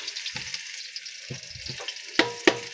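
Kangkong (water spinach) frying in oil in a pan sizzles steadily and close, with stirring scrapes and a couple of sharp clinks of a utensil near the end.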